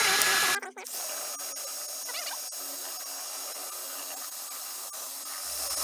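A drill spins a homemade paint mixer built from hot melt glue and zip ties, starting with a brief clunk and then holding a steady, close whirring drone with faint ticks.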